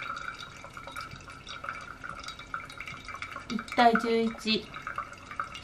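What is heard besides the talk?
coffee dripping during pour-over brewing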